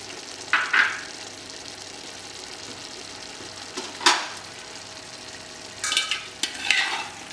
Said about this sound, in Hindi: अब इसे बढ़िया मिक्स कर लेते हैं और भून लेते हैं।